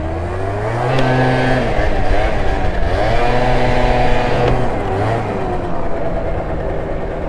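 A motor scooter engine revs hard in repeated surges and dips during a wheelie attempt, loud and close, rising and falling in pitch over about seven seconds.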